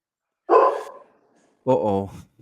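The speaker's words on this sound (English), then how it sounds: "there's your dog." A dog barks twice, loud and close, each bark a full, harmonic woof separated by about a second of silence.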